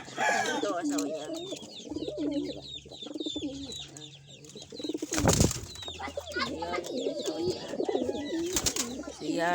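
Pigeons coo in soft repeated rolling calls, mixed with other bird chatter and a couple of sharp knocks, with a voice talking underneath.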